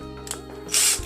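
A drill bores pilot holes into a wooden batten in a quick burst. A close motor whine rises into a harsh, loud grinding near the end of the one-second clip.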